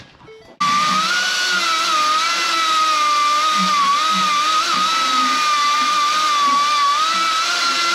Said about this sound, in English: Gonna need a cut wheel and some heat.